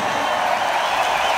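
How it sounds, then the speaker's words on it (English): Audience at a live rock concert in Prague, giving a steady, dense wash of applause and crowd noise throughout, loud and continuous. "give this man a big round of applause"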